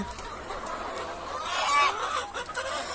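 Fayoumi hens on a rooftop farm cluck nearby, with a few short clucks rising over soft barnyard background noise and no one speaking.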